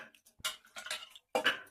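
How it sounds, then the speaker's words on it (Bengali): Soaked kabuli chickpeas tipped into a pressure cooker in a home kitchen, giving a few short clattering bursts of hard peas hitting metal, separated by brief pauses, close and fairly quiet with no talking. "এখন কাবলি ছোলাগুলোকে আমি প্রেসার কুকারে দিয়ে দিচ্ছি।"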